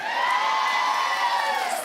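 A studio audience at a daytime talk show cheers and whoops continuously, a dense crowd roar that holds steady throughout without distinct claps standing out.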